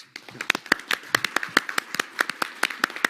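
A round of applause, a few hands clapping in quick irregular bursts, sharp and close, with no voices over it.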